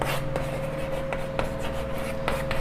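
Chalk or marker writes an answer on a board during a class 8 math lesson, with several short scratchy strokes tapping at irregular intervals over a steady background hum.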